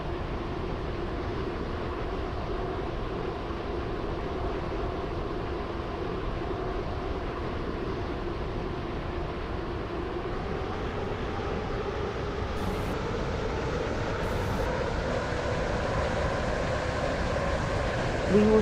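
A steady mechanical rumble of a train in motion in the Roblox game Stepford County Railway, continuous and even throughout with a gradual shift in pitch, no voices.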